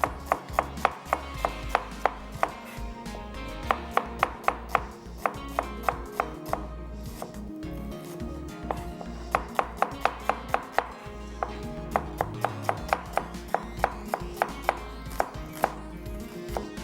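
Onions being sliced on a cutting board with a knife, fast steady rhythmic chopping knocks, close and crisp, with brief pauses between runs and no talking.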